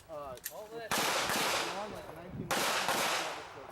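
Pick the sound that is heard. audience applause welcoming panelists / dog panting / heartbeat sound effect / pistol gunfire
pistol gunfire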